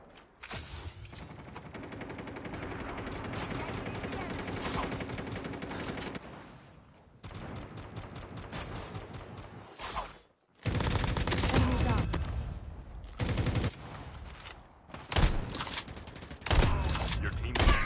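Sustained volleys of automatic gunfire in a shooter video game crackle loud and dense, broken by short pauses and ending in several sharp separate bursts.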